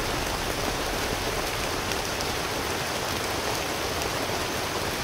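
Steady rain falls outdoors, a dense even hiss of drops hitting surfaces that holds constant throughout with no voices.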